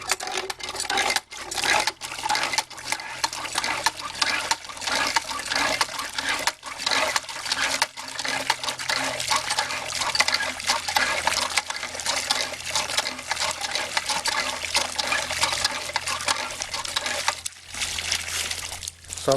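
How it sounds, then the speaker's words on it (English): A hand pump drawing water, with rhythmic rubbing strokes and splashing, trickling water repeating steadily at close range with no talk. "So the hand pump works."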